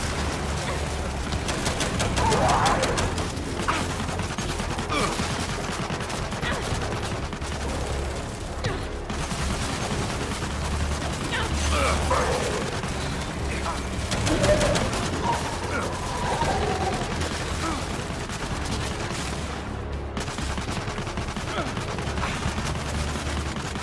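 Sustained automatic turret gunfire in Gears 5 during a desert campaign battle, dense bursts rattling continuously with explosions and mechanical clatter mixed in, voices shouting over the fight.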